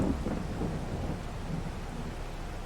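A dense, continuous wash of rain with a low rumble of thunder in Farming Simulator 22, steady and fairly loud throughout with no voices.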